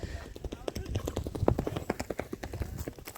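Hooves of Balveer, a Kutch horse at a horse race, clip-clop in a quick, uneven rhythm of sharp strikes, with voices talking over them.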